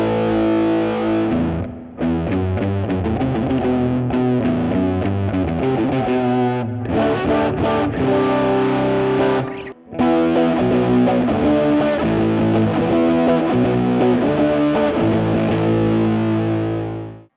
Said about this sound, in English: We get a really nice low gain distortion tone from this setting